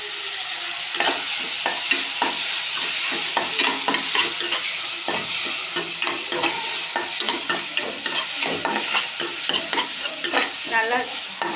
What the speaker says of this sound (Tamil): தக்காளி வதங்குற அளவுக்கு நல்லா நீங்கள் சிம்மில் வச்சு நல்லா வதக்கிக்கோங்க.